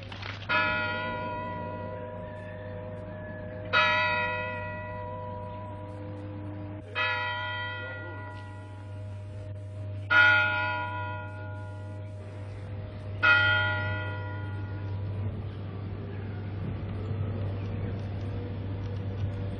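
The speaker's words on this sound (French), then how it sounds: "le son des cloches égrenant lentement les heures" Slow, widely spaced tolls of a church bell in Raiatea, 1978, five strikes about three seconds apart, each ringing out and decaying over a steady low hum.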